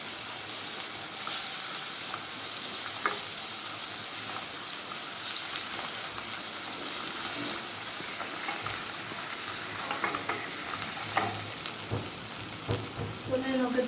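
Ginger garlic paste frying with onions in a pan for mutton keema biryani, giving a steady broadband sizzle throughout with occasional stirring clatters, close and fairly loud, no talk over it.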